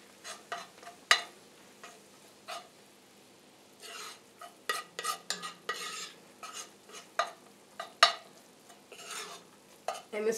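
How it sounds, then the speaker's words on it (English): Chicken and gravy are stirred in a pan, with a soft sizzle beneath a string of sharp, irregular utensil clinks and scrapes against the metal, fairly close and quiet. "You keep stirring it."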